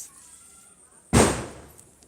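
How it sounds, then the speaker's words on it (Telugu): A single sharp Diwali firecracker bang goes off after a quiet stretch, a loud sudden burst with a fading tail, heard during a live festival celebration. "క్రాకర్స్ వేస్తున్నాం చూడండి"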